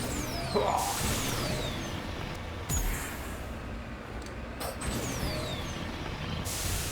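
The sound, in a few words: vehicle driving in video game Mass Effect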